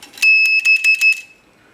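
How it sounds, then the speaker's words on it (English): Primer alarm on a Dillon 650XL reloading press, a loud, steady high electronic tone pulsing in about five bursts before cutting off, heard alone. "This is the primer alarm."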